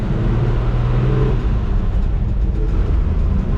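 A 1980 Dodge D100 pickup engine runs loud and close, holding a steady rumbling drone with slight rises in pitch as it revs through a gear change.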